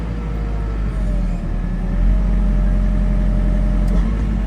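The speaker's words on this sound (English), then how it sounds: "Feeding it out with the auger bucket." A tractor feeding out silage with an auger bucket runs loudly and continuously close by, its engine holding a steady drone that rises slightly partway through.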